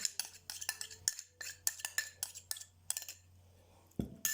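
Yeast and milk being stirred into dough ingredients in a bowl for shekerbura pastry, with a run of quick utensil clinks and scrapes against the bowl, a brief pause, then one louder knock near the end.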